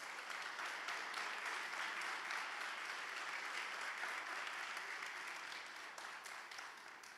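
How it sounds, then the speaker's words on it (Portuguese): A church congregation applauds during a Portuguese-language sermon: dense, steady clapping from many hands, heard at a distance and fairly soft, holding on for several seconds before easing off slightly at the end. "dê um aplauso ao Senhor"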